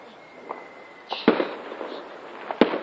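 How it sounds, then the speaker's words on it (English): Fireworks going off outdoors, several sharp cracks and pops at irregular intervals, moderately near, with faint background ambience between bursts. "Please, can you do more fireworks?"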